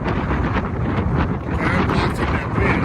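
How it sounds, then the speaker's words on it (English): Gusty wind buffets the microphone outdoors by a river in a loud, continuous roar with surging blasts, nearly drowning out any other sound. "It is very blustery today, and it's probably these microphones aren't going to do us any good"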